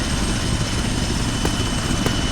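Steady rotor and engine drone of a helicopter in the video game ArmA 3, loud and continuous, filling the whole stretch without pause.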